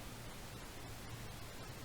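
Steady pink noise with a balanced, rushing hiss, heavier in the low end than white noise. It plays continuously at an even level with no gaps and no voices.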